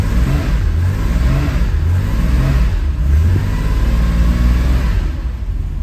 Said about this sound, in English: we got our tach adapter in, we got our engine running